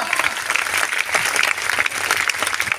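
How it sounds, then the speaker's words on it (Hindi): Vigorous applause from an audience at a product promotion event in Samastipur, loud and continuous with sharp individual claps standing out from the dense patter. "जोरदार तालियां"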